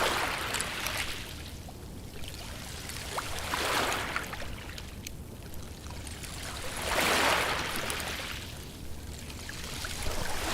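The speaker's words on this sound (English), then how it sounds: "It's the sound of waves, but then it sounds like a little xylophone as the water recedes because of all the shells on the beach." Waves wash in and recede over a shell-covered beach in the video game The Last of Us, swelling and fading in slow surges about every three seconds, with a light clinking, trickling texture as the water draws back.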